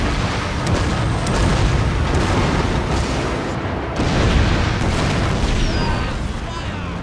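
Cannon fire in a Total War: Shogun 2 Fall of the Samurai naval battle, a dense, continuous roar of booming blasts and rumble, loud throughout with no clear gaps.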